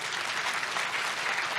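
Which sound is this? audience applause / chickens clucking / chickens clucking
audience applause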